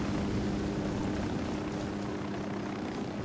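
Helicopter in the video game Ghost Recon Wildlands, a steady loud engine drone with a deep rotor hum that stays constant and close throughout, with no voices.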